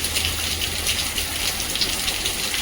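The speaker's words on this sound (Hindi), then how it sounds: "बाहर हो रही है बहुत तेजी से बारिश" Heavy rain pours steadily outdoors, a dense continuous hiss of drops hitting surfaces with no pauses, fairly loud and close, with no talking.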